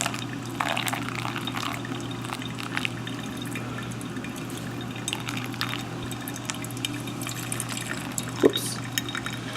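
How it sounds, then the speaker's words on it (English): Water is poured steadily into a Chemex coffee maker, a soft continuous trickle and splash over a low constant hum, with an occasional drip. "I just poured in too much water in one go"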